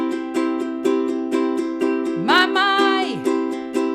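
An acoustic guitar strums the chords of a pop song in a straight, even down-up pattern, with steady evenly spaced strokes and a short slide or bend in the middle of the passage; no voices.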